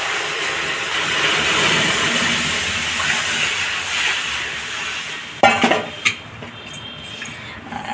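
Hot water is poured into a pan of fried mung dal, a steady hiss and steam sizzle that builds and then drops away, followed by a few sharp clinks of a utensil against the pan.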